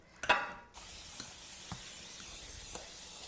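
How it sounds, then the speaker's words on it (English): A short hissing burst of cooking spray onto a pan close by, followed by quiet room tone with a few faint soft clicks. "we'll take this pan here and we're going to just spray it lightly"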